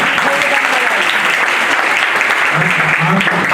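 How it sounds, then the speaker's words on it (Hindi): Loud, sustained audience applause at a college program fills the hall in a continuous wash of clapping, with a voice faintly audible underneath. "उनका भी हम जोरदार तालियां बजाते हैं"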